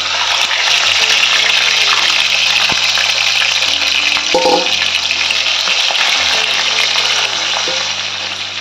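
Two pieces of fish sizzling as they hit hot oil, splattering loudly and steadily with a hiss that rises at the start, while a low electrical hum runs underneath and the frying eases slightly near the end.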